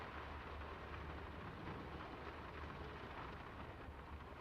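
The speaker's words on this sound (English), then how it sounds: "It's getting late, and the rain's not abating." Steady, even rain pours throughout the video game Draugen, forming a dense, unbroken wash of noise with a low rumble underneath and no other sounds rising above it.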